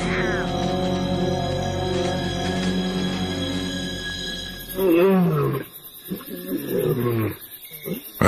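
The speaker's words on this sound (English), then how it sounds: "the lioness is calling for her pride" A lioness calls out for her pride, her loud, deep roaring calls rising over a steady background drone, several long vocal bursts following one another close by.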